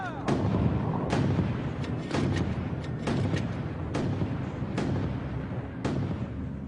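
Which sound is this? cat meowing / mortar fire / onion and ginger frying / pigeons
mortar fire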